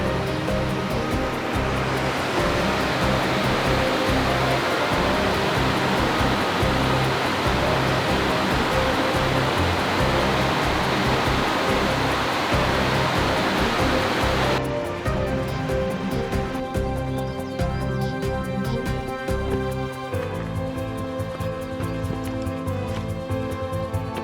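Colwith Falls, a Lake District waterfall, pours in a dense, steady rush of water, loud and close, with the roar shifting in tone partway through as the position changes; no voices.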